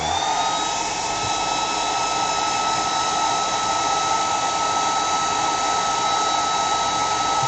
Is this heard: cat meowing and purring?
no